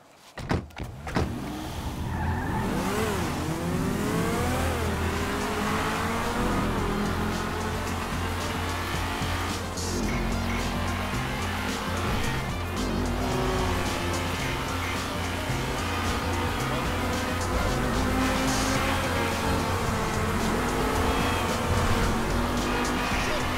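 Race cars in the video game GTA 5 roar at high revs, with engine pitch climbing and falling through gear changes and tire squeals, continuous and loud throughout.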